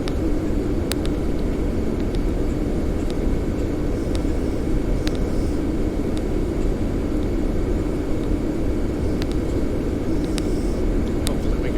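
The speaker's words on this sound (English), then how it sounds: "Hopefully we can make it in this aircraft and not run out of fuel" An airplane in flight on a Miami to Toronto trip, its engine noise a steady, loud, continuous drone filling the cabin with a few faint clicks on top.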